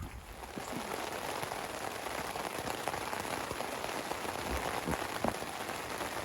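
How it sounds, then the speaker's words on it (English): Steady rain patters on a tent nearby, a dense constant hiss with scattered individual drops, no voices. "Raining again."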